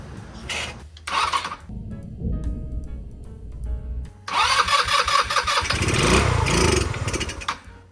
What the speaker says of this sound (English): She's firing off with a little bit of starting fluid down the carburetor